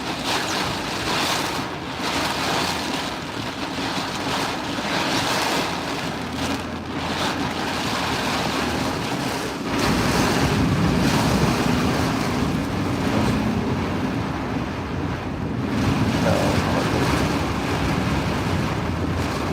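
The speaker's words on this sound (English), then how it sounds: "Look how strong the wind is." Strong storm wind gusts roar steadily, with a broad rushing noise that intensifies midway and stays loud to the end, with no speech.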